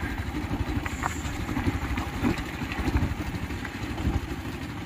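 A motorcycle engine revs high at about 9000 rpm while riding slowly at around 21 km/h on a cold road, a steady close droning roar filling the whole stretch.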